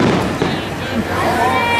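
Fireworks at Disneyland burst amid a crowd, a dense wash of booms and crackles under chatter and cheering from people nearby.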